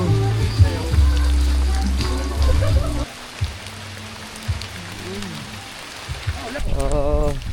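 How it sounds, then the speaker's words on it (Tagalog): Steady heavy rain hisses across the whole clip, with a low rumble and speech-like tones over it, ending in a louder burst of noise. "Ano, lakas ng ulan."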